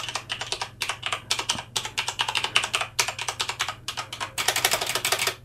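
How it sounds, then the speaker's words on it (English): Typing on an RGB mechanical keyboard with reactive lighting gives a steady run of crisp, close clicks and clacks in quick bursts and short pauses, with no voice over it. "Oh god, I've been typing."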